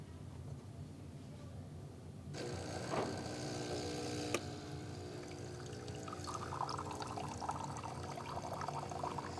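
Espresso brewing on a Breville espresso machine, with a steady watery pour and trickle into the cup. It starts after a quiet stretch once the brew button is pressed, joined by a brief mechanical click and a faint pump hum, and runs close and continuous.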